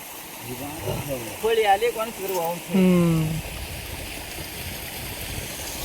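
Stream water flows steadily in a continuous rushing wash, with people talking over it briefly before it carries on alone.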